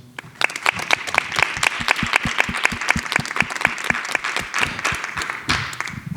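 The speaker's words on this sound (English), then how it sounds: "If we could give them a round of applause." A room of attendees at a city advisory board special meeting applauds newly welcomed board members, steady brisk clapping rising near the start and sustained at close range for several seconds without talk.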